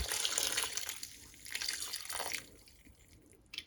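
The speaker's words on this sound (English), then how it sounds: "all we need to add now is 500 ml, which is 3/4 of a pint of malt vinegar" Malt vinegar is poured for a ploughman's pickle, heard as a close liquid splash and trickle that fades to a few drips, fairly quiet, with no talk.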